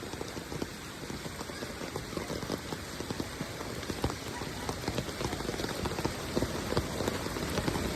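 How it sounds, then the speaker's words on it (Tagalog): Heavy rain pours steadily and densely, a loud constant hiss with close pattering drops throughout, no voices. "Monitor kay kusog kaayo ang ulan."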